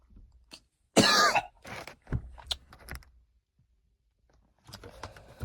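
Several harsh coughs and throat-clearing bursts, close and fairly loud, separated by short pauses, with a final cough near the end.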